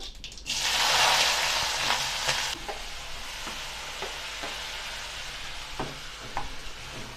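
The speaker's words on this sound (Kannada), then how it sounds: "ನಾನು ಫಸ್ಟು ಕ್ಯಾಪ್ಸಿಕಮ್ ಹಾಕ್ತೀನಿ ಎಣ್ಣೆಯಲ್ಲಿ ಚೆನ್ನಾಗಿ ಬೇಯಲಿ" Capsicum drops into hot oil in a pan, bursting into a loud close sizzle that settles into a softer steady fry, with a few stirring clinks and scrapes.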